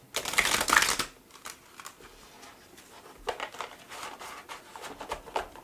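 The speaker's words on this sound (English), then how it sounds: "Okay, I'm going to shuffle" Oversized cards are shuffled by hand, starting with a dense, loud burst of riffling, then settling into lighter, irregular slapping and sliding sounds close to the microphone, with no talking.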